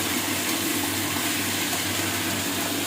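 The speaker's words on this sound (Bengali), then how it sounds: "চিমনি চলছে বলে একটু আওয়াজটা এরকম আসছে।" A kitchen chimney exhaust hood runs with a constant, even whooshing drone and a low hum, close and unchanging throughout.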